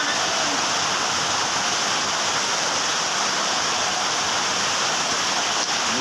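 Steady rain pouring down, a loud, dense, uninterrupted hiss like rushing water, close and constant with no variation across the stretch.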